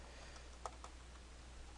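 A few soft keystrokes on a computer keyboard while typing a Python comment, faint and sparse over a steady low hum.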